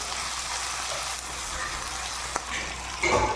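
Onions and salt sizzle in a pan of ground masala, a steady close crackling hiss with a brief stirring scrape near the end.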